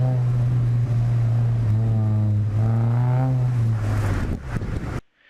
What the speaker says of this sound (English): you hear him mash down on the throttle, and around goes the rear